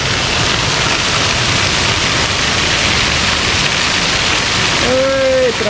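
Waterfall in Cristina, Minas Gerais, a steady loud broadband rush of falling water that fills the whole clip, with a brief whistle-like tone near the end.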